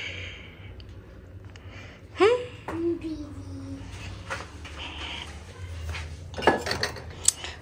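Dishes and utensils in a home kitchen clink and clatter faintly in a few brief bursts, one knock early and a sharper cluster later, over a quiet room hum.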